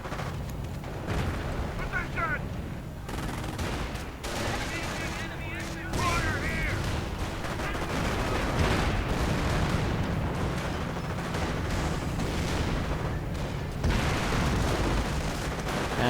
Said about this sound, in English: Mortar rounds flying.